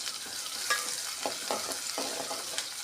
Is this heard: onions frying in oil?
yes